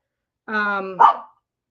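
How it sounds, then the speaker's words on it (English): A single close dog bark, opening as a drawn-out whining yelp and ending in a sharp burst, sounds out loud and alone against silence in an indoor quilting room. "now that the barking has started, it's not going to stop"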